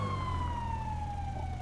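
A police car siren wails in a steady, slowly falling tone, fairly loud and continuous over a low rumbling background, with no talking.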